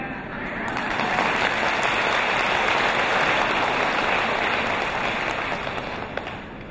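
Sustained applause from an audience at a Buddhist monk's talk, a dense wash of clapping that swells in and holds for several seconds before fading slightly, with no talk over it.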